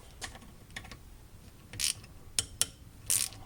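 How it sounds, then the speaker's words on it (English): A ratchet wrench removes the 10mm bolts of the VTEC solenoid on a Honda D16Y8 cylinder head, giving quiet, close clicking bursts in short irregular runs with sharper clacks near the end and no voices. "so it's just 3 bolts to take off this VTEC solenoid"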